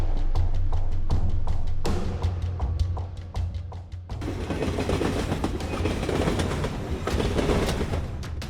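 A train runs along the rails with a rapid, repeated clickety-clack of wheels over the joints, loud and close, then settles into a denser, continuous rumble.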